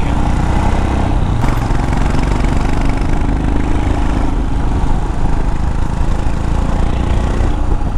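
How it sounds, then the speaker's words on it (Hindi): A motorcycle exhaust fitted with a dB killer idles loudly and steadily up close, a continuous throaty engine drone with no talk. "मेरा साउंड कैसा आ रहा है एग्जॉस्ट का डीवी किलर के साथ?"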